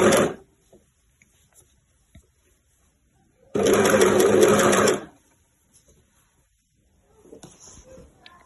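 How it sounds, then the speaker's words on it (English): An overlocker stitches around a velvet T-shirt neckline in one fast, loud burst of about a second and a half, close by, with brief clicks and handling noises before and after. "carefully pass that neckline through my overlocker"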